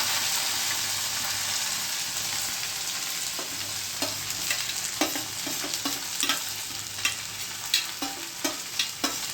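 Okra hitting hot oil already sizzling with browned cumin, asafoetida and garlic, a steady close frying hiss broken by sharp stirring clicks and pops that grow more frequent toward the end, with no talking.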